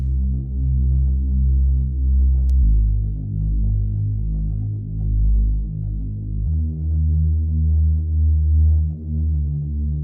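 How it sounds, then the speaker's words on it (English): Deep Reese bass synth in FL Studio holding long low root notes of a pad progression, dropped several octaves, throbbing steadily and changing pitch a few times, alone. "we got this Reese bass, which is just the root notes of that first pad progression sent down a few octaves."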